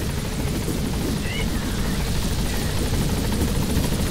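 Helicopter rotor chopping in the video game Metal Gear Solid V: The Phantom Pain on PS4, a steady loud whirring drone filling the whole stretch, with a person talking over it.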